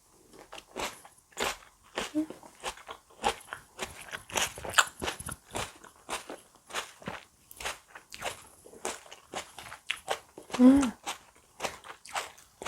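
Crunchy stevia cherry tomato bitten and chewed close to the mouth, a series of sharp crisp crunches and wet chewing pulses, with a louder bite near the end.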